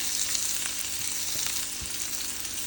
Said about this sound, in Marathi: घालूयात आपण बारीक चिरलेला कांदा